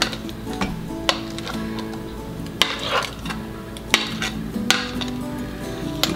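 Apple walnut cake batter is spooned into cake pans, a metal spoon tapping and scraping against the pans in irregular, crisp clicks with soft wet plops between, close and clear, with no talking.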